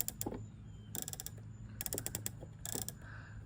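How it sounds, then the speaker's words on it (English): SWFA rifle scope turrets are turned by hand, giving four quick bursts of fine, crisp clicks in a rapid ratchet-like run, close and fairly quiet with short pauses between bursts. "the turrets, in case you're wondering how they sound"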